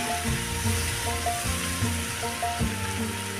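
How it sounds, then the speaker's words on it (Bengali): Spice paste fries in hot oil for a vegetarian paneer dish, a continuous close sizzle with soft scraping stirs recurring every half second or so, no voices. "এবার মশলাটা ভালোভাবে কষিয়ে নেব।"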